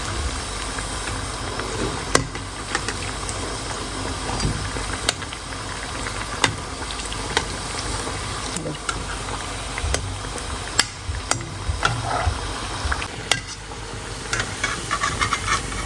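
Something deep-frying in oil until golden brown and puffed, a continuous close bubbling hiss with frequent clicks and pops spread irregularly throughout.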